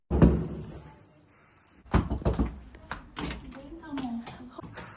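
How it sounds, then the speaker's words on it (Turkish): A door swung open and thudding as guests arrive at a student house, a sharp knock or bang at the start followed by further thumps and clatter while several people talk and greet each other. "Aç lan kapıyı."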